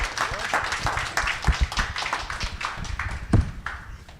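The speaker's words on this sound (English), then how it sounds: "So one last round of applause for our panel." Audience applause for a panel discussion at the close of an impact event, a burst of clapping with individual claps standing out, somewhat sparse and uneven, fairly near and moderately loud.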